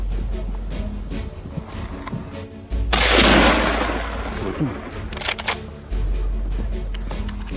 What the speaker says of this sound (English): I also took the opportunity to fire a few shots in succession